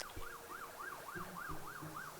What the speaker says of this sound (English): There goes another ambulance.